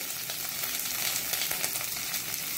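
Mustard seeds splutter and curry leaves fry in hot oil for tempering, a dense, continuous crackling sizzle with fine popping throughout, close and fairly loud.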